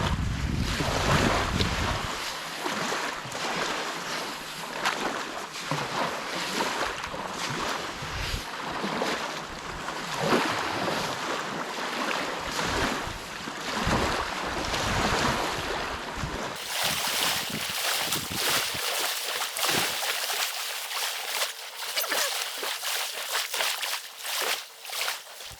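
Waves lapping and washing along a wild shoreline while clay is dug from the bank, a steady broadband wash with heavy wind buffeting the microphone throughout and no voices.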